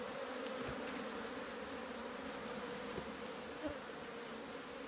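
Honey bees (Apis) buzz steadily throughout during a honey harvest in a cold southern region, a dense continuous hum with a few brief louder passes close by and no talk.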